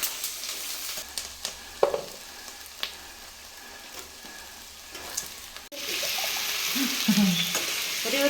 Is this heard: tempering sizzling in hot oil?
yes